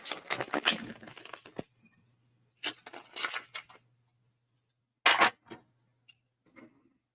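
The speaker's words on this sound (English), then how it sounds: "let's do a wee riffle shuffle" Tarot cards riffle shuffled by hand, heard as several quick crisp fluttering bursts separated by pauses, close and fairly quiet, with a soft tap or two near the end.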